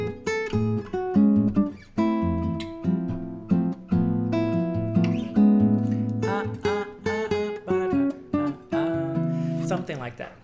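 Guitar plays the melody of a bossa nova tune read straight as written, a steady run of plucked notes over chords, close and fairly loud with no talking.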